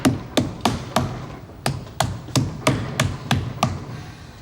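A hammer tapping in an even rhythm, about a dozen sharp, close knocks spaced roughly a third of a second apart, each with a short ringing decay and no voices.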